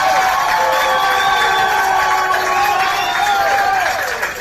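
A crowd at a women's over-40 hockey Asia Cup final between Singapore and Hong Kong cheers loudly and continuously, with high shrill shouts and whistles rising above the roar.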